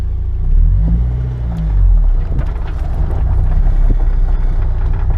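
A Mazda Miata engine with new spark plugs and wires idles and revs steadily up close, with a rumbling low drone and faint irregular ticking beneath it, no talking.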